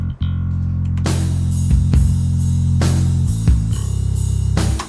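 Fingerstyle five-string Stingray bass with only compression and graphic EQ, deep sustained notes playing together with a drum kit whose loud hits and cymbal crashes land every second or so.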